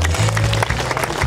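A church congregation at a choir service applauds for Jesus, a loud, dense burst of clapping with a low hum of voices and music underneath.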